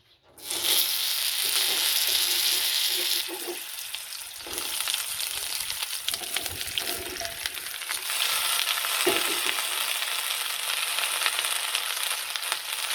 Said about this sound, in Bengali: এবার দিয়ে দেবো আলু আর পটলগুলো। সব আমি একসাথে ভেজে নেব।